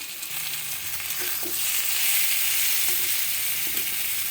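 Cut potatoes and onions fry together in a pan, giving a constant bright sizzle that swells slightly midway, with occasional soft stirring scrapes and no speech.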